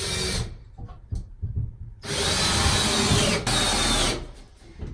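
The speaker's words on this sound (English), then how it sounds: "I'm going to screw it into these joists." A power drill drives screws into wooden attic joists to fix a short stiff-leg support, whirring loudly and close in several bursts separated by brief pauses, with no talk.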